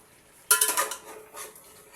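A metal lid clanks down onto a cooking pot, a sharp nearby clatter followed by a few rattling settles and softer kitchen clinks, with no talking.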